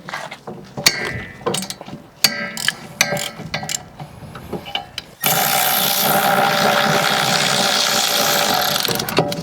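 A hand ratchet loosens 17 mm bolts on a bracket of a 2017 or later Toyota Prius during rear wheel bearing work, first as sharp irregular clicking and clunks, then a sudden sustained fast buzzing ratchet whir close by.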